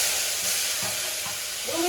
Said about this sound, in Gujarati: એટલે વઘાર કરી ટમેટાની ગ્રેવી નાખી